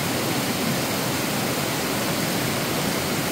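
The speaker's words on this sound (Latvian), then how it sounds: "Šī ir Trepojas ūdenskrituma kaskāde, atrodas Igaunijā uz Trepojas strauta" The Treppoja waterfall cascade on the Treppoja stream in Estonia pours in a dense, steady, close-up roar of rushing water, loud and unbroken with no voices.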